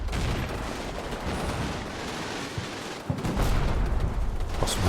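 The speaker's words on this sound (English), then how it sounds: "That was just a spotting round from our artillery." Artillery and gunfire in a war video game form a dense, continuous fusillade of overlapping shots and rumbling blasts, with a heavier boom and a louder surge of fire just past the midpoint.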